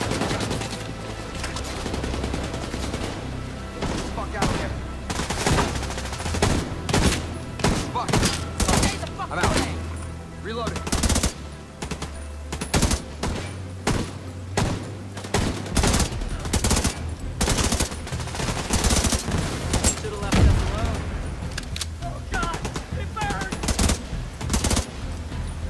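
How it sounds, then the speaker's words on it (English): Gunfire in the video game The Division 2, with sustained bursts of automatic fire and scattered shots for nearly half a minute, while game characters shout over the shooting. "Keep firing and take them out!"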